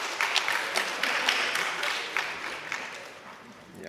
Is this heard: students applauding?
yes